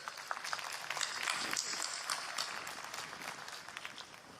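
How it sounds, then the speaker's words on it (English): Scattered clapping from a university fall commencement audience, a sustained patter of many hands that stays fairly even and faint throughout. "give yourselves a round of applause because you absolutely deserve it."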